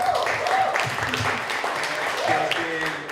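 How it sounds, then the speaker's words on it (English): An audience applauds a panelist being introduced at a photography talk, giving a moderate, steady patter of clapping that runs alongside a speaking voice. "Let's give a round of applause."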